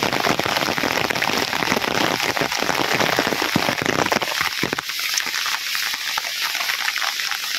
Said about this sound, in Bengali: কম রে বৃষ্টিটা।